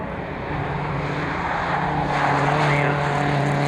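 MGF race cars lapping the Croft circuit, a continuous loud engine roar that swells slightly as cars pass close by.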